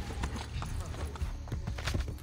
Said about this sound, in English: let me get my horse again